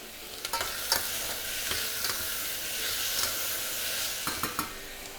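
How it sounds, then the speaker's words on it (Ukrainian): Continuous close sizzling of onions frying in a pan for burgers, with occasional scraping stirs and light clinks over the hiss. "Тим часом у нас горить цибуля."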